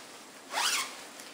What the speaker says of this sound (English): you can open the zipper and it's expandable